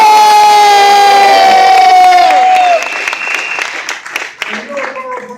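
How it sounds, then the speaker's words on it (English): Rally crowd at a $15 minimum wage event with Governor Cuomo cheering and applauding union 1199, loud whoops and shouts over clapping that swell in after a sustained cheer and continue in ragged bursts. "Let's give them a round of applause."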